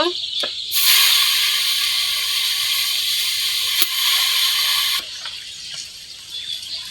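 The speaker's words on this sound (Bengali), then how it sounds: "আর এখন এই কড়াইতে আমি শাকটা দিয়ে দিব।" Leafy greens hit a hot karahi in a village kitchen, setting off a loud, steady hiss that runs for several seconds and then drops to a quieter simmer, with a couple of sharp clinks partway through.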